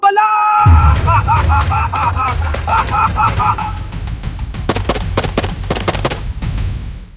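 Soldiers fire guns at monsters. A loud shouting voice comes first, then a volley of sharp, rapid shots cracks out near the end.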